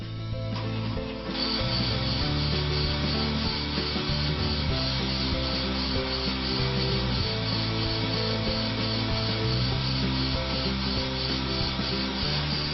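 A brake lathe makes a final fine-cut pass on a car brake rotor, a continuous close metallic grinding whir with a steady rhythmic scraping pulse, loud and alone throughout.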